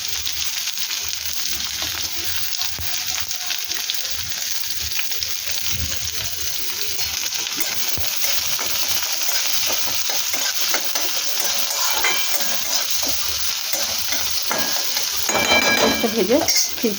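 Onion, garlic cloves and nigella seeds fry in hot oil in a Bengali kitchen while being stirred. A continuous close sizzle runs throughout, with scraping stir strokes and a brief splash of water near the end.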